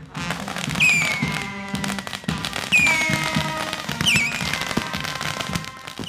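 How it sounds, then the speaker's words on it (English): Fireworks going off at a wedding celebration, a dense run of crackling and popping bursts with whistling rising tones, loud and continuous over about six seconds. "Fireworks follow. Lots and lots of fireworks."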